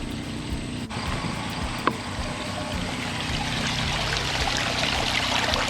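Water gushes steadily from a newly drilled house well under pumping, a constant close rushing and splashing that grows slightly louder toward the end.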